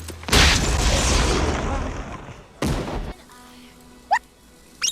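A firework bursts in an animated Mulan scene, a loud broadband blast lasting over two seconds, then a second shorter bang, followed by quieter whistles and chirps.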